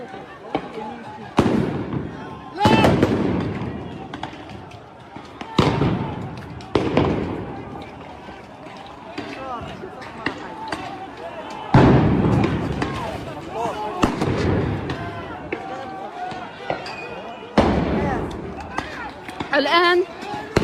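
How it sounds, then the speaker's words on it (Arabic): Stun grenades and gas canisters fired at Al-Aqsa Mosque, loud sharp blasts bursting one after another at irregular intervals and echoing across the compound, with shouting voices and commotion throughout. "الآن قوات الاحتلال تطلق قنابل الغاز والصوت."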